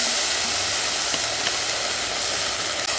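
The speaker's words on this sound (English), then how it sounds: "Now we are adding the vinegar." Vinegar poured into a hot pot of onion, carrot and hot pepper cooking outdoors at night sets off a loud, steady hiss and sizzle with faint bubbling that runs on unbroken, no voices heard.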